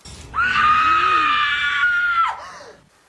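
A woman in the horror film Scream 3 lets out a single loud, sustained high-pitched scream lasting about two seconds, then trailing off into a breathy gasp.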